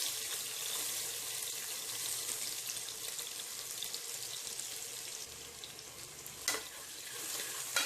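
Onions frying in hot oil with cinnamon and cloves in a pressure cooker, a dense, steady hiss of sizzling close by, with one sharp clink of a utensil near the end and no speech.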